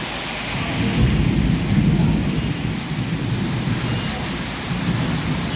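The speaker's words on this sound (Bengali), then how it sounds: "আকাশে প্রচুর পরিমাণে মেঘও আছে আবার আকাশও ডাকতেছে দেখুন বৃষ্টিও হচ্ছে" Rumbling thunder rolls low beneath a steady downpour of rain, loud and continuous, with no voices.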